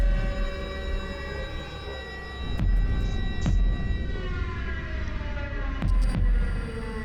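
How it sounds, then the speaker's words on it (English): Siren in a black-and-white music video, a long wailing tone over a heavy droning hum and low throbbing music, with a few sharp hits. "That siren, oh my god,"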